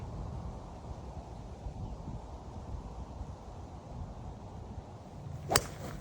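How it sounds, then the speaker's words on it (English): Wind blows across an outdoor golf course at Dryden Park in Modesto, California, a steady, low rumbling buffet against the microphone, ending in one brief, sharp swish. "The wind's picking up."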